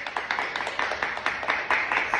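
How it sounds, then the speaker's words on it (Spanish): A short burst of applause for Anuel on a Dominican talk show, with sharp rhythmic claps repeating in quick succession, close and fairly loud, no voices over it. "Un aplauso para Anuel."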